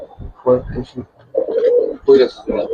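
Pigeons in a loft cooing close by in short throaty bursts, several overlapping calls with brief pauses between.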